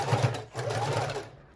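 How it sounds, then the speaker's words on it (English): A sewing machine stitches down the side of a fabric file folder book cover in a quick, even run of rapid mechanical clicks close by. It slows and stops at the end. "we're going to come right down that side as we are sewing"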